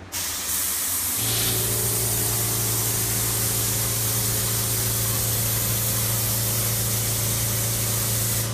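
A paint sprayer lays down a first coat of enamel in a basement, starting with a brief click and then holding a loud, steady hiss from close by, with a low motor hum beneath and no talk.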